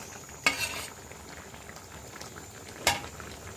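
A pot of Bengali fish curry with fried eggplant and lentil bori bubbles quietly at a soft, steady simmer, broken by two sharp metallic clinks of a utensil against the pot.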